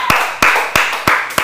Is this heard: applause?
yes